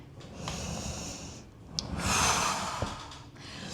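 A forceful exhale during a reformer Pilates plank exercise on a Kmart reformer, with a couple of long breathy pushes of air. It is close and moderately loud, with no talking.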